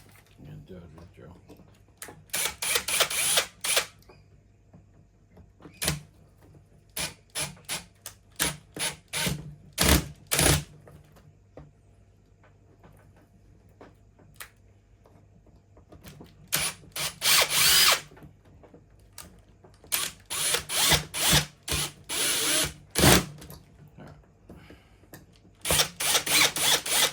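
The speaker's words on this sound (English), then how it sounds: "Drill." A power drill whirs in repeated short bursts, loud and close, separated by quiet pauses, with a few clicks between runs.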